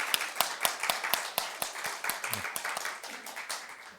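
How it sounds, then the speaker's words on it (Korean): A church congregation claps in a fairly quick, even rhythm, close and moderately loud, individual hand claps distinct over a faint murmur, lasting a few seconds. "박수 한번 주세요"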